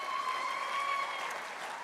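A crowd of gala guests claps steadily for the donors, a dense, even patter of many hands that holds at a constant level throughout.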